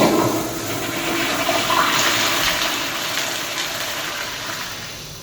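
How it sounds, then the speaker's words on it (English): Automatic Kohler toilet with a black seat flushing in a hotel restroom: a loud, close rushing gush of water that holds steady for several seconds, then slowly tapers off. "Okay, flush."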